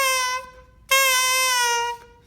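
A bassoon played with too little reed in the mouth gives a thin, buzzy, bright tone in two sustained notes separated by a short gap, close and fairly loud with no talking.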